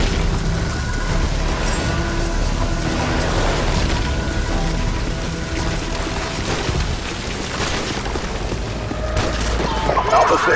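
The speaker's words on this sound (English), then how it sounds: "6, we're taking heavy fire on our position north of the overpass!" Heavy gunfire rattles in a Call of Duty 4 battle near an overpass, dense continuous bursts and booms layered loud and close, with shouted voices mixed in.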